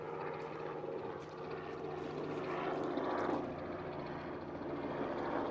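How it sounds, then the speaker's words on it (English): A helicopter passes overhead near a wood-processing site by a fogged-in mountain, a distant, faint droning rotor hum that swells slightly midway and stays steady under the quiet background. "You hear the helicopter up there."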